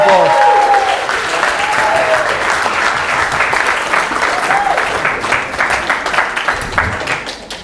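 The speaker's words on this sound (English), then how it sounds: "Everyone give a round of applause." A live audience at a comedy-style stage show breaks into sustained applause, dense clapping with scattered cheers that holds steady and then thins slightly toward the end.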